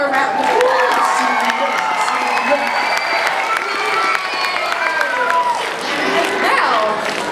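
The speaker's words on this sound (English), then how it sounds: "give them one more round of applause" An audience at a school lip sync competition applauds and cheers loudly, with sustained clapping, whoops and children's shouts filling the whole stretch.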